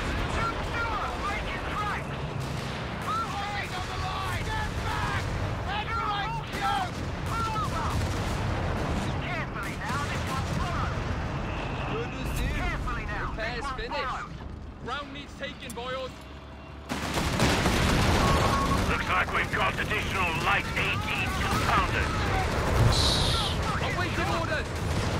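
Heavy artillery from a creeping barrage in Company of Heroes 3 rumbles continuously through the stretch, with repeated booms and crackling impacts under the game's voice lines. The barrage grows noticeably louder and denser partway through.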